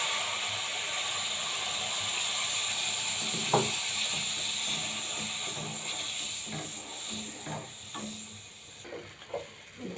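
Water poured onto lightly roasted semolina in a pan gives a soft continuous hiss, faint and steady, with a few small sputters and scrapes near the end.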